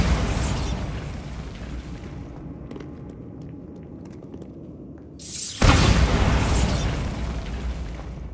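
A Bombarda spell goes off in Hogwarts Legacy: a broad roaring blast and noisy rumble, then a quieter stretch with faint clicks, and a second sudden loud burst near the end.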